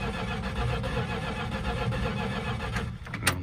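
A Mopar 383 V8 engine with a knock, choke unhooked, cranking and catching, then running with a rough, steady rumble that fills the whole stretch, with a sharp clatter near the end.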